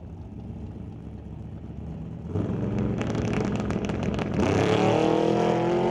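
A Mustang and a straight axle Chevrolet Bel Air drag race at an outlaw shootout on a drag strip, with a steady engine roar that jumps louder and then swells further as the cars accelerate.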